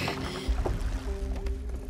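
Small boat moving on a lake in the video game A Plague Tale: Innocence, with low rumbling water and hull sounds and faint splashes across the short stretch, plus a few soft knocks.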